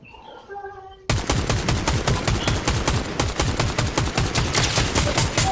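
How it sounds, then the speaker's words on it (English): Close, loud automatic gunfire in a video game, a fast sustained burst of rapid shots that starts abruptly after a short quieter moment with tonal game sounds. "Somebody's shooting behind us."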